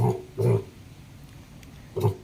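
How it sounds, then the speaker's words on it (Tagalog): A farm pig in a piggery grunting in three short low bursts with pauses between, fairly close against a quiet background. "maganda yung ating alagang baboy"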